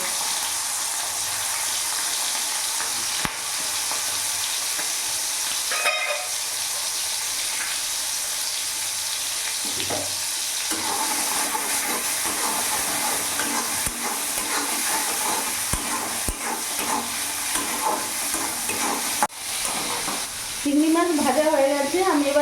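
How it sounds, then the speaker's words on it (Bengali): Shrimp sizzle and fry in hot oil in a pan with pumpkin and peas, a steady loud hiss broken by scraping stirs, with clattering near the end. "এর মধ্যে চিংড়ি মাছগুলো দিয়ে দেবো"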